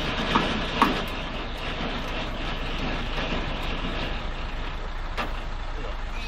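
A truck tractor couples to a trailer at night, with a steady idling engine rumble broken by a few sharp metallic knocks and a brief hiss near the end.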